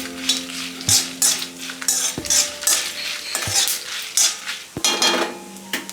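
Coriander and cumin seeds dry roasting in a pan for an instant tomato pickle, rustling and scraping with a spoon, several distinct metallic knocks against the pan, no voices.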